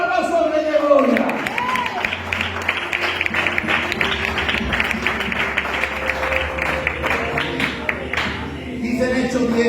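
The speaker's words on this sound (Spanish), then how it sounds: "Dale un aplauso al Rey de Gloria" A church congregation breaks into applause, many hands clapping steadily for several seconds while a voice speaks over the start and cheers and whoops rise briefly through the clapping.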